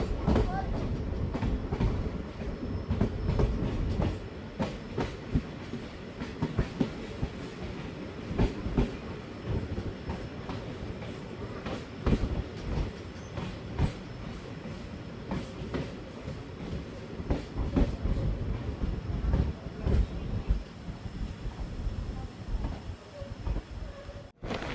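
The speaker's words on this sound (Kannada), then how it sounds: "ನಮ್ಮ ಟ್ರೈನ್ ಈಗ ಅಮೃತಪುರ ರೈಲ್ವೆ ಸ್ಟೇಷನ್ಗೆ ಎಂಟ್ರಿ ಆಗ್ತಿದೆ" A passenger train rolls into Amruthapura railway station with a steady, close rumble and rhythmic wheel clatter that continues without a break for the whole stretch.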